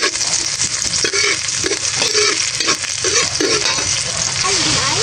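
Garlic sautéing in a hot pan with onion about to join, a steady close sizzle broken by repeated scraping stirs of a utensil against the pan.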